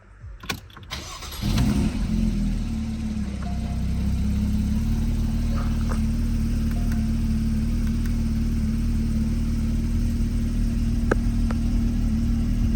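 A Porsche 981 Boxster/Cayman engine cranks briefly, then catches and settles into a steady, close, low idle rumble that continues to the end.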